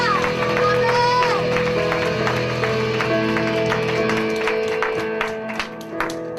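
A congregation at a Sunday university-group worship service claps rhythmically along to a worship song, the steady claps layered under loud band music and singing.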